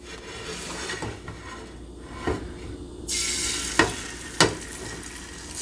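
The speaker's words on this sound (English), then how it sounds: "And then I'm just gonna pour in my egg." Whisked egg mixture hits a low-heat pan greased with avocado oil spray and starts a steady broadband sizzle, with a few soft knocks of utensils before and during.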